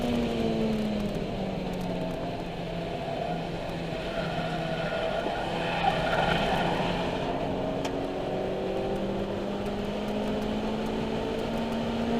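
Race cars lapping a circuit during the one-hour final round of the 2015 2K Cup, their engine notes droning steadily and sweeping up and down in pitch as they pass at a distance, with no talk.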